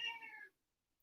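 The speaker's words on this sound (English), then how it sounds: "I have a cat. This is my support animal." A pet cat gives one short, clear meow, close and fairly soft, lasting about half a second before silence.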